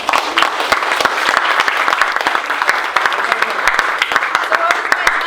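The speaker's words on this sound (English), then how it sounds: "All right, round of applause." Loud, close applause from a crowd, a continuous wash of clapping with a few sharper claps standing out.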